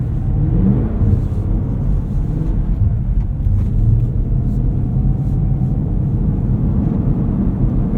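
A 2024 Cadillac CT5-V Blackwing climbing a snowy hill: a loud, steady low engine and road rumble heard from inside the car, with faint ticking and no voices.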